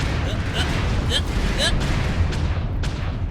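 Missile strikes land around a mech in MechWarrior Online, a dense rumbling barrage of booms over a constant roar of game noise, with bursts of impacts near the start.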